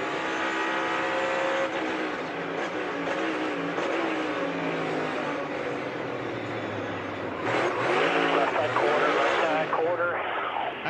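NASCAR race cars roar through a multi-car spin, engines revving and shifting pitch continuously and loudly over an excited commentator's voice, with a surge of engine noise late on.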